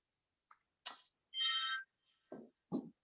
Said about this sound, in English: You have to excuse our salon phone ringing.